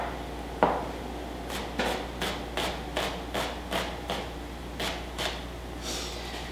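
A knife slices through an onion on a cutting board, leaving a run of about a dozen evenly spaced, crisp taps that are faint and close, with no talk over them.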